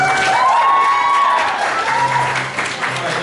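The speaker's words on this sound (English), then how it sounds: "So let's give another round of applause, guys." An anime convention crowd at a game-show event bursts into loud applause and cheering, with a few shouts and whistles over sustained clapping.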